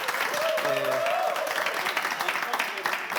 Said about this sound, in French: Vous pouvez vous applaudir, s'il vous plaît.